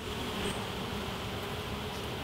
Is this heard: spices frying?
no